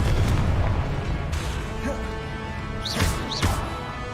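Confringo fire spell blasts in the Hogwarts Legacy video game on PS5, several booming impacts amid continuous combat noise, with two sharper whooshing bursts near the end.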